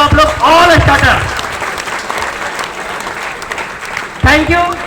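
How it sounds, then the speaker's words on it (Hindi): Audience applause breaks out loudly at a business seminar, with a host speaking over it at the start, then the clapping settles into a steady, sustained patter before a fresh burst of speech and clapping near the end. "और एक जबरदस्त ताली स्टार्टर के लिए देते साहब आप लोग"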